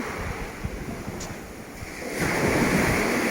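Strong ocean waves at night beneath an abandoned building, a loud continuous rushing surf with wind buffeting the microphone, building into a heavier wash near the end.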